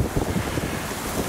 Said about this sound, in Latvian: Un tikai vējš pūtīs.